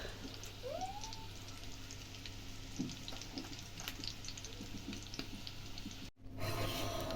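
Soft, steady sizzling of pancakes frying in a pan, a continuous hiss with faint clinks and small crackles throughout.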